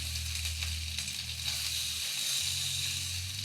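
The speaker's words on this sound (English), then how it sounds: "I'm just going to flip all of them. Let the other side get cooked." Bacon sizzling and crackling steadily in a pan of hot grease, a soft continuous hiss at close range with no talk.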